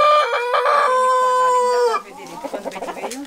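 A large rooster crows in one long, loud, close call, followed by a short run of nearby chicken clucks around a farmyard henhouse.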